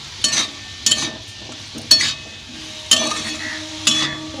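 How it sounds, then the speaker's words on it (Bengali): A spoon scrapes and knocks against a pan about once a second while stirring sambar dal ingredients with a pinch of sugar, five distinct rhythmic strokes with a faint sizzle beneath. "খুব ভালো করে মিশিয়ে নেব"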